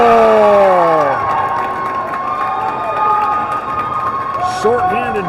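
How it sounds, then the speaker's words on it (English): A youth hockey crowd at the Ben Boeke arena roars and cheers after a short-handed Oilers goal, loud shouting and whistling from many voices that stays lively and sustained, with an announcer talking over it. "The crowd goes crazy here at the Ben Boeke."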